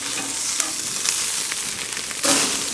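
Inch-thick bone-in ribeye steaks sear in a blazing hot pan at a camp stove, giving a loud, steady sizzle with crackling spits and a brief surge of hissing near the end.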